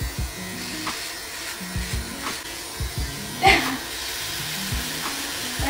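A full beard is shaved off, with the mustache left in place. Soft, intermittent buzzing strokes repeat quietly, and there may be faint talk in the background.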